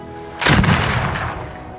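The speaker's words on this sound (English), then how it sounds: "Following a gunshot from Glass during a hunt" A flintlock rifle shot during a frontier fur-trade hunt, in The Revenant: one sharp, loud blast with a long rumbling decay that fades over about a second.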